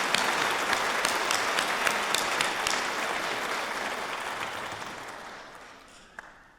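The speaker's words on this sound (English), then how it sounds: "let's cheer for that" A crowd at a nursing school spring pinning ceremony claps loudly and continuously, the applause gradually fading toward the end with a faint cheer mixed in.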